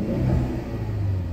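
A 2015 Ford Escape with a 2.0-liter turbo engine revs up close, a loud steady rumbling growl with a rising rev, heard alone without talk.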